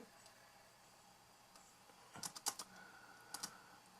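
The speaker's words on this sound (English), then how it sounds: "So we type" A command entered on a computer keyboard: after a quiet stretch, a short burst of crisp keystrokes, then a few more clicks a moment later, faint room hiss underneath.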